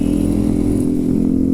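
A modified Yamaha R15 sport motorcycle runs close by with a loud, steady engine drone that holds throughout without talk.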